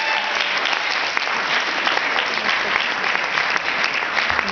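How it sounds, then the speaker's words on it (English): Crowd at a stand-up comedy show claps in a thick, continuous wave, loud and close, without speech. "You guys are already clapping."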